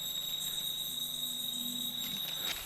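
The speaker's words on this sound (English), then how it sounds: "Papuan forest cricket. They're a burrowing cricket that can't fly, but they're very good jumpers." A Papuan forest cricket, a flightless burrowing species, gives a steady high-pitched continuous trill over a quiet background, close and clear.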